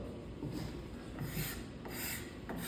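A hand tool scrapes hard across wood to clean up a pillowed leg shape, giving rough rasping strokes in an uneven rhythm, close and moderately loud.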